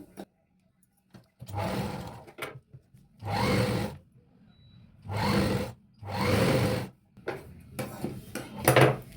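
A sewing machine stitches a kids' frock in several separate bursts of a few seconds each, a close rattling whir with short quiet pauses and handling noises between runs.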